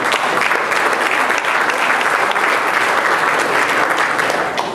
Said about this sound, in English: So please give me a warm round of applause for Daniel.